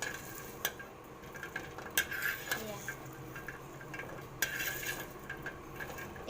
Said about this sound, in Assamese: খুব কম জুইত ভাজিব, একো কৰিব নালাগে, জাষ্ট হেতাখনে লৰাই থাকিলেই হ'ব